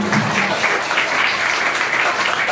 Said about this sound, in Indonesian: tepuk tangan dulu untuk anak SD 11